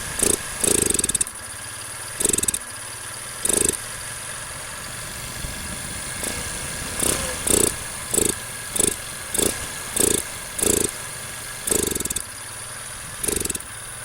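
A carbureted engine with a 20.5 mm float height runs close by, its steady idle broken by repeated loud, rhythmic bursts as the throttle is blipped over and over.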